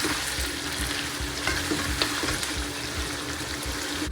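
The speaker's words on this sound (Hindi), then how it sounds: "यहाँ पर मैं बना रही हूँ मटन कढ़ाई" Mutton karahi cooks in a pan with a steady, close sizzle and bubbling of hot oil, punctuated by a few soft stirring clicks and scrapes.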